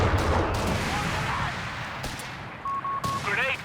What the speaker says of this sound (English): Taking heavy enemy fire here!